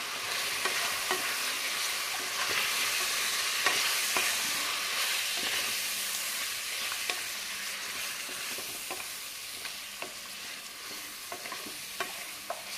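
A spoon stirs ground cumin, coriander powder and a little turmeric frying in a pan, a steady close scraping with soft clicks over a continuous low sizzle, no voices.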